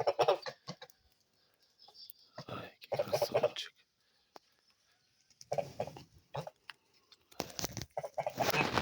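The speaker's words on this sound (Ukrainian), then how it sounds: "Гусеньки п'ють водичку." Kholmogory geese drinking water make soft close gabbling and honking calls in scattered bursts, interrupted by quiet gaps, with a person murmuring nearby.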